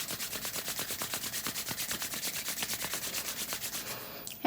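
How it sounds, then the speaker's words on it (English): Palms rub briskly together during a self-massage, a fast, even, rhythmic swishing of skin on skin repeated many times at close range before stopping abruptly. "Let's rub again."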